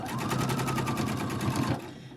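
A sewing machine stitching fabric for a bowl-shaped mask, running in a quick, steady rhythmic clatter up close before stopping abruptly near the end.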